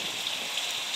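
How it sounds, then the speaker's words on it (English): Steady, close hiss of pouring rain on a lake beach, a continuous broadband wash with no voices over it for the short stretch. "We're out here in the pouring rain, hunting this beach here."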